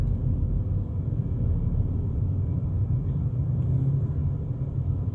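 Interior of a 2022 Volkswagen Polo GTI cruising in fourth gear through Cape Town traffic, with a steady low engine and road rumble that holds even and unbroken throughout, and no voices.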